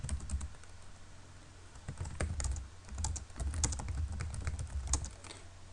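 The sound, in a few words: typing text on a computer keyboard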